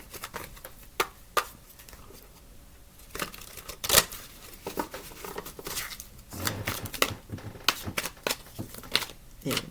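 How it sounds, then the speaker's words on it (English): Tarot cards are shuffled by hand at close range, soft papery riffles and flicks in quick uneven bursts with short pauses between them, quiet overall. "Oh, not a very good shuffle."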